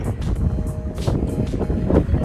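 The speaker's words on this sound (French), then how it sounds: "Il y a un vent fou." Strong gusty wind buffets the microphone at a wind farm with Alstom turbines, a loud, continuous roaring rumble with repeated blustery surges and no talk.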